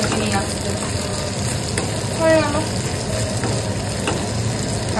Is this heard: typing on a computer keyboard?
no